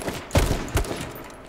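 Two loud, close gunshots in a shooter video game, fired a fraction of a second apart, each a sharp crack with a short tail, against quiet background noise.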